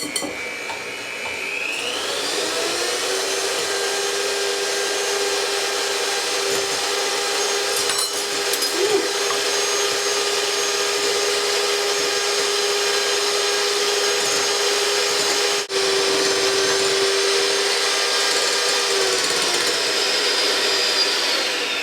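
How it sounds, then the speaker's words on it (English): A KitchenAid stand mixer runs on low speed whipping a frozen fruit soufflé mixture, a steady continuous motor whine with a constant hum that holds throughout, close and fairly loud, with one brief tap near the end. "with a stand mixer, make sure you do it on a low speed"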